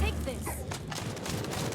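Rapid bursts of explosions and gunfire-like pops crackle densely during a video game boss fight, continuous and moderately loud, with a voice talking over them.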